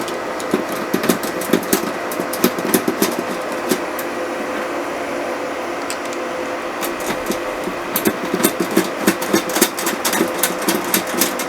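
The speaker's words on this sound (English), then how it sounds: "Okay, so I'm going to put these screws in." Screws being driven in while installing a KVM system, a powered driver whirring in short repeated bursts with clicking and tapping, pausing briefly before another run of quick rattling bursts.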